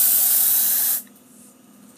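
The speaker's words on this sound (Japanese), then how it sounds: "こういった窓の差しとかにはこうスプレーを" Aerosol insecticide sprayed onto a window frame to keep centipedes out, a loud, steady close hiss that runs for about a second and then cuts off abruptly, leaving quiet room tone.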